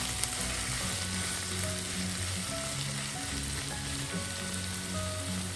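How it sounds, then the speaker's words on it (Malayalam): Okra (vendakkai) fries in coconut oil over a medium flame. A dense, loud, continuous crackling sizzle fills the whole stretch, with faint stirring underneath and no voices. "ഇടയ്ക്കിടയ്ക്ക് ഇളക്കി കൊടുക്കും. വെളിച്ചെണ്ണയിൽ കിടന്നെല്ലാം ഒന്ന് മുക്കട്ടെ"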